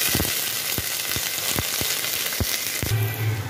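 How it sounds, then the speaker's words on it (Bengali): Cauliflower pieces frying in a generous amount of hot oil in a wok, a dense, loud, continuous sizzle and crackle, close up, broken by regular soft clicks from stirring, with no voices. "একটু বেশি করে তেল দিয়ে ফুলকপিগুলোকে দিয়ে ভাজতে বসাই"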